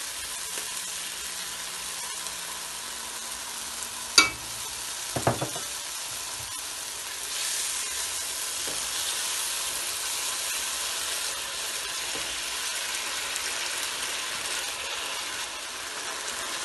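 Masala with yogurt frying over full flame for chicken biryani, a faint, steady hiss and sizzle with a couple of sharp clinks and stirring knocks near the middle.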